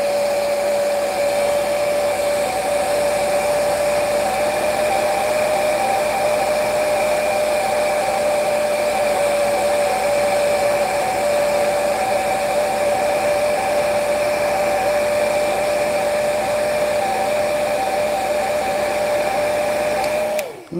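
A hair dryer runs steadily and loud for about twenty seconds, drying paint on a model kit, a constant whirring blow with a high whine, cutting off abruptly at the end.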